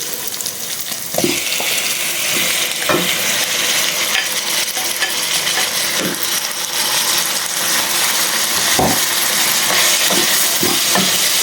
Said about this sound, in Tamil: முதல்ல வந்து பாதியை நாங்கள் போடுறோம் போட்டு வதங்க விட்டு கொண்டு தக்காளியை போடுறோம்